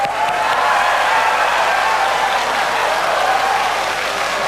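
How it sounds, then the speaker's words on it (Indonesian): Steady, dense applause from a large audience at the 2014 Indonesian presidential and vice-presidential candidates' debate (Jokowi and Prabowo), loud and continuous throughout with no speech over it. "kalau ada yang mau tepuk tangan silahkan"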